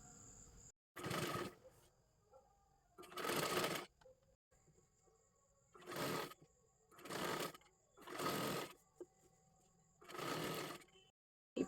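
A sewing machine stitching piping onto a blouse runs in six separate bursts of a second or so each, loud and close, with quiet pauses in between and no talk.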